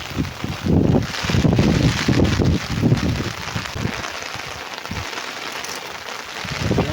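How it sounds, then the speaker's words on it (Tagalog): Strong, gusty wind buffets the microphone in heavy rumbling bursts, with a steady rushing noise like rain underneath. "Ang lakas na ng hangin."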